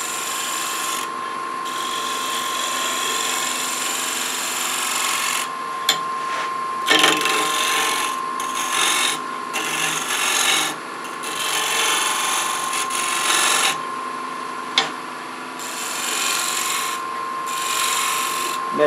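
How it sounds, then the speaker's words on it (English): A hand scraper cuts across a wooden bowl or dish spinning on a lathe, giving a continuous rasping scrape in repeated passes with short pauses, close and fairly loud over the steady motor hum. "I'm gonna take this scraper and just see if I can't get rid of a few ripples here."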